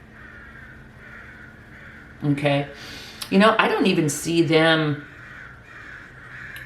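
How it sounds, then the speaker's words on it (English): Crows caw in a loose run of harsh, repeated calls, loud and close, over a steady background hum, while a person talks over part of it. "Oh, the crows are really talking."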